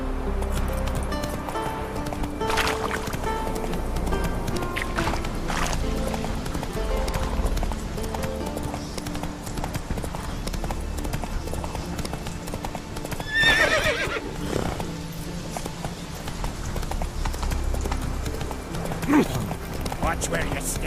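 Roach, a horse in The Witcher 3 video game, gallops with rhythmic clip-clopping hooves and lets out a whinny, set against game music, with a voice speaking.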